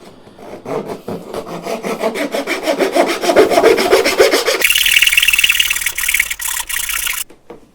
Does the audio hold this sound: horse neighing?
no